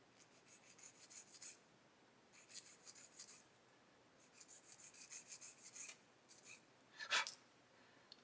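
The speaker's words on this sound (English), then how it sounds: "We're just going to sand over them." Small parts for a 1/32 scale Boulton Paul Defiant Mk.1 model kit are sanded by hand, giving quiet, close, raspy rubbing strokes in several short bursts. A faint click comes near the end.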